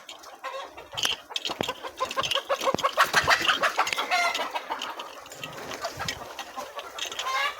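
Native country chickens cluck steadily inside a poultry shed on a village farm, a soft, busy chorus of overlapping calls at moderate distance with no single bird standing out.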